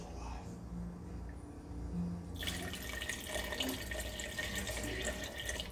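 Water pours steadily into a blender for a berry smoothie, a faint trickle that turns into a fuller rushing flow partway through, with no speech over it.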